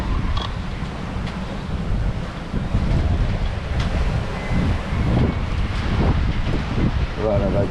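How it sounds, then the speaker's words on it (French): Ocean waves surge against a sailboat at sea in strong wind, a loud churning wash that swells midway, under gusty wind noise, with someone talking. "Voilà, la vague qui arrive."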